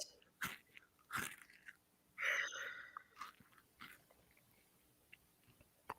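Potato chips being bitten and crunched up close, a few sharp crisp bites followed by softer chewing in an otherwise quiet setting, with no talking.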